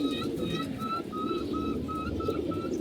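Old-breed racing pigeons coo in a steady, repeating series of short calls, close by, over a constant low background rumble.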